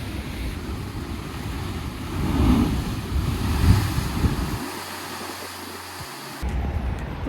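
Ocean waves surging at Thor's Well on the Oregon coast at low tide, a steady roar of surf swelling and receding with strong wind buffeting the microphone.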